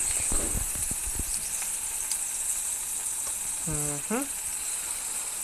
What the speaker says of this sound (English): I love the smell of some nice sizzling deer.